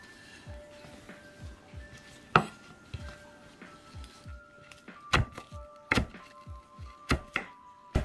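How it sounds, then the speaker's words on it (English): A knife chops green onions on a cutting board in irregular, quick thunks, with a few sharper, louder knocks standing out over a quiet background. "So now we're gonna cut up some green onions."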